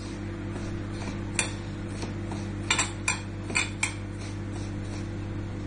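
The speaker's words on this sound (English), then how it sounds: "just mix it. Mix the butter along with this." A metal spoon scrapes and clinks against a bowl while semolina (rava) and maida are mixed with butter, with several sharp taps over a low steady background hum.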